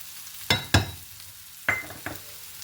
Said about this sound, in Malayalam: ഇതൊന്ന് ഇളക്കി വഴിപ്പിച്ചെടുക്കാം